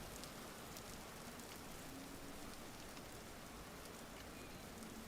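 Rain falling in the survival video game Vintage Story, a steady, even hiss of drops on surfaces that holds constant throughout, faint and continuous with no talk.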